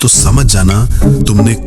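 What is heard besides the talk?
None of the usual background noises is heard.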